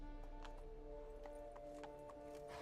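Roach, a horse in The Witcher 3: Blood and Wine, gallops with a steady rhythmic clip-clop of hooves. The hoofbeats are faint under a sustained hum of game music.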